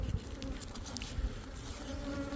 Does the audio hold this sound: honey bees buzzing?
yes